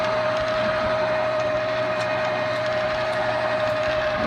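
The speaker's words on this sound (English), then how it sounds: "the slow juicer, you notice the difference in sound, and then when you look at it moving, it really is slow, but it's got a more powerful motor" A slow juicer's powerful motor runs as a steady, even drone with a constant whine, moderately loud and unbroken, with no talk.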